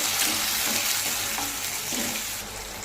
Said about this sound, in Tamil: தக்காளி நல்லா மசிஞ்சு வர வரைக்கும் வதக்கிக்கலாங்க